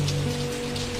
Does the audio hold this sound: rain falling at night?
yes